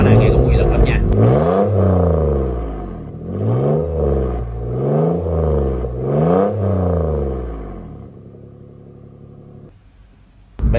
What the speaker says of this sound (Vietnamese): Đó là lúc mà động cơ nó đang còn nguội á, nên nó chạy ở vòng tua 1500 lần nha các bạn